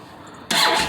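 A 2004 Yamaha Road Star 1700, a carbureted 1,700cc bike with about 28,000 miles, has its engine start after a half-second of quiet, then settles into a loud, steady rumble close by with no talking.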